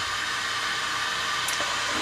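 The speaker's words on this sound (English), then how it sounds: "as you can hear, our water is starting to warm up back there" Water heating on a hot plate gives a steady broadband hiss like a faint rushing roar, constant and moderately quiet throughout, with one brief tick near the end.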